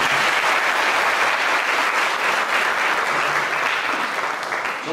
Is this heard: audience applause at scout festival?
yes